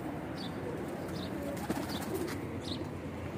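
Pigeons coo softly in a loft, low murmuring calls at a moderate distance, accompanied by faint repeated chirps and a brief flutter, with no talk.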